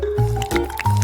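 A jar of liquid jelly mixture is shaken hard by hand, the liquid sloshing and squelching in quick wet bursts. Close up, with no talk over it.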